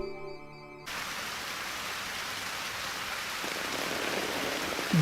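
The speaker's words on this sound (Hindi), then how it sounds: "बारिश होने लगी।" Steady rain begins falling after a brief quiet moment, a dense hiss of drops on surfaces that holds at an even level.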